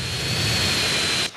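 A military jet in GTA San Andreas roars in jet mode with a loud, steady broadband rush and a thin high whine throughout, close and continuous, cutting off abruptly at the end.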